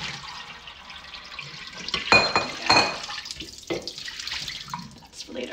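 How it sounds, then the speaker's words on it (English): Potatoes are rinsed under running water and then drained, giving a steady splashing flow close by that surges into louder gushes partway through. "So I'm just gonna do a quick little rinse, drain them, drain water."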